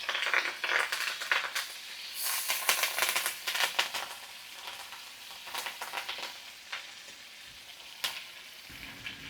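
Butter and aromatics sizzle and crackle steadily in a hot pan, with bursts of spattering and the occasional clink of a utensil stirring, close up and with no talking.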